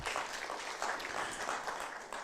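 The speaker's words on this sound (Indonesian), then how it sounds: "Beri tepuk tangan untuk Tuhan kita." Church congregation applauding during a worship sermon, a dense, steady wash of many hands clapping at moderate volume throughout, with no voices standing out.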